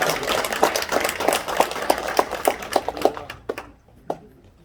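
Applause at a Korean Confucian school elders' ceremony at Jinju Hyanggyo's Myeongnyundang hall. Clapping from a gathered crowd is already going at the start, breaks into distinct separate claps and fades out within a few seconds.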